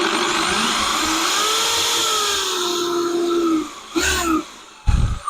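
Power drill whirring steadily as it drives screws into wood while building a shed, with pitch sliding as each screw seats, then short bursts before stopping.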